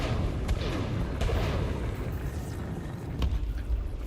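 Ship weapons fire in the space game Elite Dangerous, several dull booming shots spaced irregularly over a low rumbling engine bed, moderately loud.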